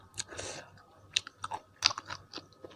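Raw beef and liver are chewed close up, with soft wet crunches and bites coming in irregular bursts against a quiet background.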